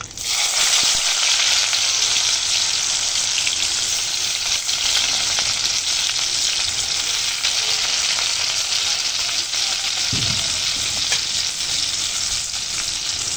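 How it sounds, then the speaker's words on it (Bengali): Chopped onions fry in hot oil in a kadai, giving a loud, steady, continuous sizzle throughout, with a brief stirring scrape near the end and no talking. "কড়াই তেল গরম হয়ে এসেছে,"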